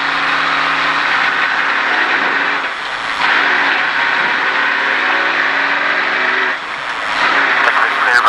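A race car engine at Texas Motor Speedway drones loud and steady from inside the car, its pitch rising and dipping slightly as throttle changes, with voices talking over it.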